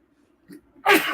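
One loud, close sneeze bursts out after a faint inhaling build-up, recorded on a podcast set and heard alone without talk.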